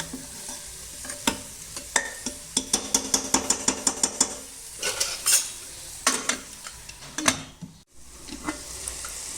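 Ground coriander and cumin sizzle in a hot pan while a spoon scrapes and knocks the metal in a quick run of rhythmic strokes, then slows to a few scattered stirs. The sound is close and no one speaks.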